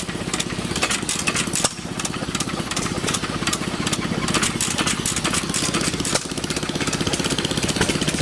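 An old gas engine at a steam and gas engine show runs loudly and steadily, its rapid, even putt-putt firing continuous from start to finish, close and dominant.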